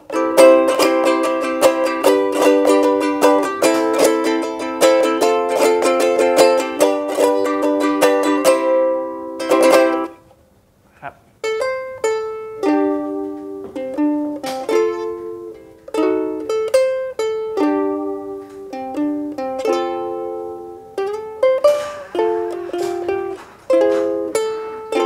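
A Leho soprano ukulele with a solid spruce top plays plucked melodic notes and strummed chords, bright and close, with a brief pause near the middle and no talking.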